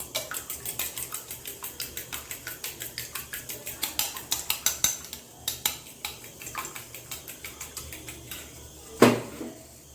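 Eggs beaten with a pinch of salt in a bowl, a fork or whisk clicking steadily against the sides in a quick repeating rhythm, close and moderately loud, with one sharper knock near the end.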